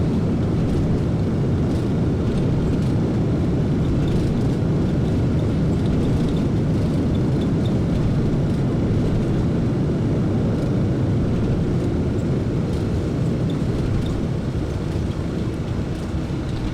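Airliner landing on a runway in the VATSIM flight simulator: a loud, continuous low engine and rolling roar with broadband rumble, steady for the whole stretch with no talking.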